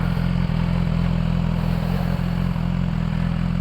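A 2019 BMW S1000XR four-cylinder motorcycle engine runs close and loud, with a steady deep throb and a few brief dips as the revs rise lightly and smoothly, no talking.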